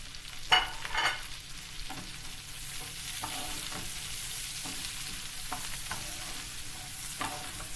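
Quiet sizzling of sliced peppers and onions frying in a pan, with scraping stirs and a few soft thumps as the peppers drop in.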